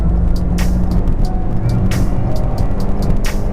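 A Toyota Corolla engine pulls steadily in sport mode just after the gearbox drops to a lower gear, giving a continuous low, throaty drone with road noise over the whole stretch.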